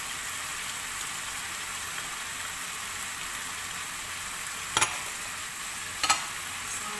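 Beef stock and tomato paste being stirred into a meat pie filling, a steady wet swishing and faint sizzle throughout, with two brief sharper scrapes or clinks near the end.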